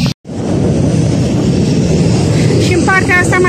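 A loud continuous roar of aircraft engines at an air show at Aurel Vlaicu Airport in Băneasa, a broad rumble that fills the whole clip after a brief dropout, with a voice speaking over it near the end.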